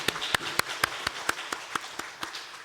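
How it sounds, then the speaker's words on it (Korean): A church congregation claps during a Sunday worship service, heard as a faint, steady rhythm of evenly spaced claps over a soft background. "하나님 앞에 영광의 박수 올려드리겠습니다."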